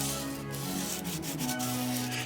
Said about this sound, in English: Lots of patience and lots of sanding all the way up to a 400 grit paper will smooth the surfaces.